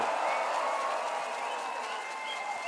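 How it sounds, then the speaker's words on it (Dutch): A large outdoor festival crowd in Limburg applauds at the end of the day, a sustained, even roar of clapping heard from a distance with crowd noise mixed in. "Applaus voor ikzelf, geweldig."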